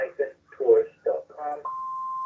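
A phone rings with an incoming call: after someone speaks, one steady electronic tone starts and holds at an even level.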